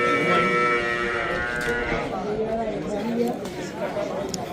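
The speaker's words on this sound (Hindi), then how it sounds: "बोले हैं कि एक बड़ी भैंस लेके आए हैं।" A large buffalo lowing at a busy livestock market in Uttar Pradesh, drawn-out moos rising over constant crowd chatter and nearby voices talking.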